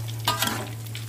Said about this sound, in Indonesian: kita aduk sampai rata dulu guys agar tercampur bumbunya guys